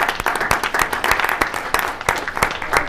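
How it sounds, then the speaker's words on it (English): An audience at a county commission meeting breaks into applause, a dense, lively patter of many hands clapping close by, continuing throughout without a pause. "So everybody give them a nice round of applause."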